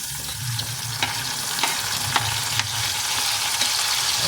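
Tomatoes sautéing in a hot pan with shrimp paste and pork fat, a steady close sizzle broken by several sharp crackles and stirring clicks, with no talking.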